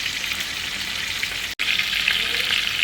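Iberico pork tenderloin sears in a hot pan, a loud, dense, continuous sizzle that cuts out for a split second before carrying on, with no one talking.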